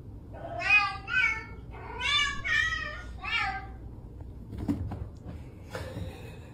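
A cat meows repeatedly in close, drawn-out cries, about four or five calls with short gaps between them, followed by a few thumps and faint background noise.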